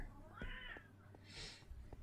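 A cat meows once, a short rising-falling call at middle distance during a live game stream, with a faint bird-like squawk and low room hum behind it.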